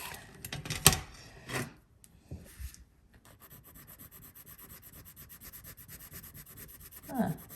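Wax pastels are swatched onto paper up close. A few scratchy strokes come first, then a long stretch of steady, fine waxy rubbing, heard alone and at low volume.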